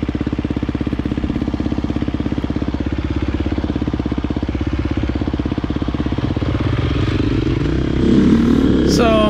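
A 2018 350 XCF dirt bike engine drones steadily while riding a North Carolina trail, a loud, close, rapid pulsing exhaust note that rises in pitch near the end, with wind buffeting over it.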